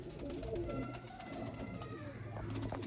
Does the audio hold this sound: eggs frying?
no